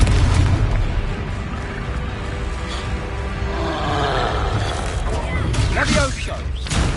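Explosions from the Confringo fire spell in the video game Hogwarts Legacy, with repeated booms and crashing blasts rolling under battle action and voices.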